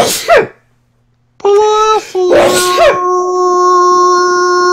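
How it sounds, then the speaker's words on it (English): A sharp sneeze bursts out near the start, then after a pause a whining, howling tone rises and holds, broken by another sneeze-like burst. "you've been hearing sneezing all over this microphone for all month"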